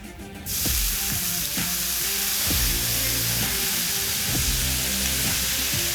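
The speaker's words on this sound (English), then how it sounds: "And just let everything steam up." Water hits a hot flat top griddle during cleaning and bursts into a loud, steady steaming sizzle and hiss, with a few soft scraping knocks.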